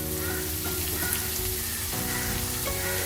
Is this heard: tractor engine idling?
no